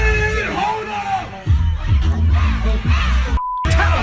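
Crowd at a rapper's concert in Houston cheering and chanting loudly along with the music, a dense roar of voices with a brief beep near the end.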